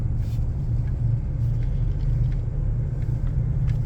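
A car engine idling at a full-service gas station, a low, steady rumble heard close up from inside the car, with a few faint clicks and no talk.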